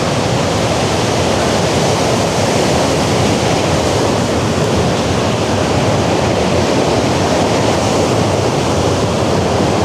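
Rushing water of the Falls of Dochart in Scotland and a side channel that once fed a water wheel, a loud unbroken roar of white noise close by, with no talk.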